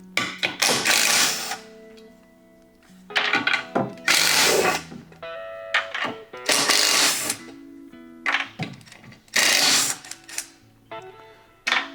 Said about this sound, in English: take yourself a 10 millimeter and remove all 4 of these screws here and take the valve cover off.